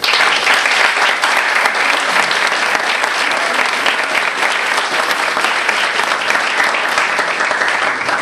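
Audience at a law school debate event applauding after a lecture, a dense, sustained burst of clapping from many hands filling the room evenly throughout, loud and close.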